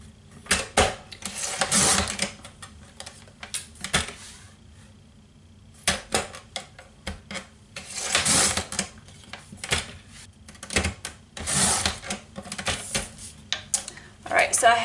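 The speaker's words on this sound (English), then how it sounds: "I can just use my straight edge cutter" Repeated short slicing swishes and clacks of a straight-edge paper trimmer blade cutting paper, coming in irregular bursts with quiet pauses between, up close.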